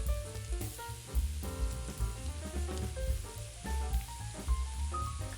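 Ground beef sizzles and browns in a pan for cheeseburger quesadillas, a soft continuous crackle running under louder background music, with no talking.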